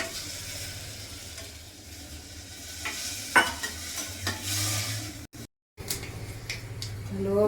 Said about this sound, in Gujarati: ગાજરનો સંભારો વઘારે છે.